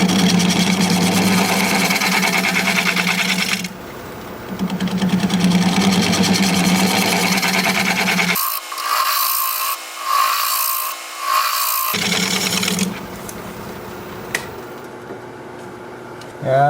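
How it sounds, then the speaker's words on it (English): Scraper tool cutting root ball wood spinning on a lathe, a loud continuous rasping buzz in long stretches broken by pauses where the lathe hum and scraping change. "some wood just doesn't like to be scraped, and we got some tear out there a little bit."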